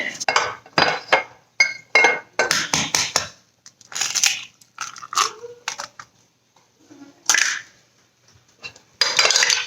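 Eggs are beaten in a bowl with a utensil, producing bursts of rapid clinking and scraping strokes separated by short pauses, close and fairly loud.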